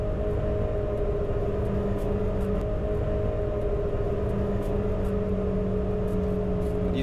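Four supercharged 300 horsepower Yamaha jet ski engines driving bespoke water jets on a Glider SS18 boat give a loud, steady, continuous drone with a constant engine tone, heard close and unbroken throughout with no talk.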